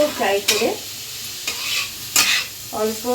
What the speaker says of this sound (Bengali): ফ্রাই করে তারপরে মিক্স করে দেব।